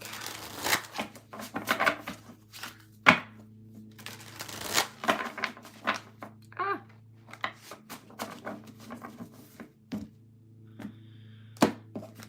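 A deck of tarot cards shuffled by hand in repeated riffles and cuts, close and crisp, with soft thumps as the cards settle, set over a steady low hum.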